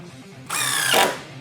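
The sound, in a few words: DeWALT DCF888 impact driver driving drywall screws at speed 2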